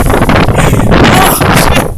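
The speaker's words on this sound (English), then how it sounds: "It's mad windy." Strong gusting wind from Hurricane Sandy in upstate New York buffets the microphone in a loud, continuous roar for the whole stretch, with no clear speech over it.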